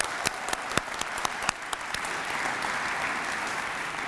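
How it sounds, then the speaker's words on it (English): An audience at a school awards ceremony applauds the Crystal Apple Award winner, with a few loud nearby claps at first and then a thick, steady wash of clapping that holds to the end. "So give her a round of applause."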